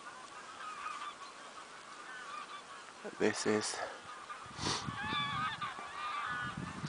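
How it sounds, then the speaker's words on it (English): A huge flock of thousands of geese honks in the distance outdoors in the morning, a dense, steady chorus of calls with a brief spoken word and a few louder nearby honks. "It sounds like"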